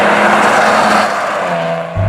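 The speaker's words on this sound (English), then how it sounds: "unless you really get into it and you want to hear that exhaust note" A Maserati Ghibli sedan's engine and exhaust note under acceleration, a loud, close, steady roar with a rising tone that briefly eases near the end before a deep thump.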